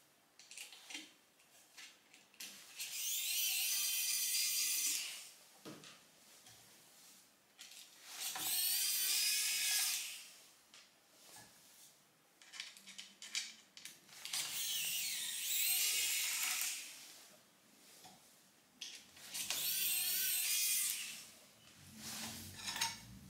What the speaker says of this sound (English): So you want to go ahead and remove those screws.